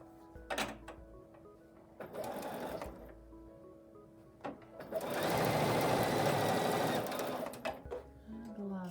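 A sewing machine stitches quilt strips for a wonky star quilt, whirring in short bursts before a longer steady run, with someone talking in between.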